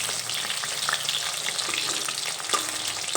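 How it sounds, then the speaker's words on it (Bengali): Fish fries in hot oil, giving a continuous close sizzle with scattered crackles and small pops and an occasional louder spit, heard without any voices. "মাছের দুই সাইড আমি এখানে খুব ভালোভাবে ভেজে নিয়েছি"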